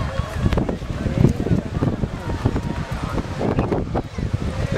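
Strong gusting wind buffets the microphone outdoors at a town festival, a constant low roar with rumbling surges, while people talk underneath.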